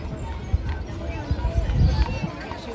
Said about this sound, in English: There's more horses.